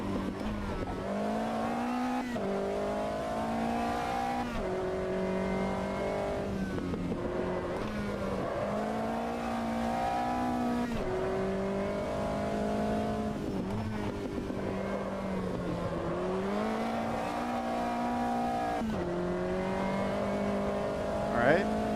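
Race car engines in the sim racing game Automobilista 2 during a hotlap, droning continuously at loud volume with pitch climbing and dropping through gear shifts and corners.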